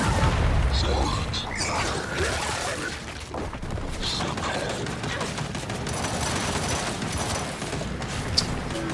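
Gunfire and booming blasts from the Gears 5 shooter pile up into a dense, continuous barrage with crashing impacts, while a voice talks over the din throughout.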